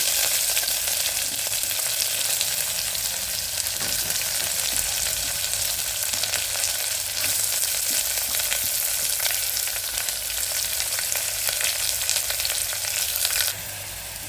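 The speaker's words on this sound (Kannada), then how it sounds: "ನೋಡಿ ಈಗ ಈರುಳ್ಳಿ ಒಗ್ಗರಣೆ ಇದೆಲ್ಲ ಕಾಯ್ತಿದ್ದಂಗೆ" Onion tempering with green and dry chillies and curry leaves fries in hot oil for a banana stem palya, a loud continuous close-up sizzle and crackle that holds steady throughout before easing slightly at the end.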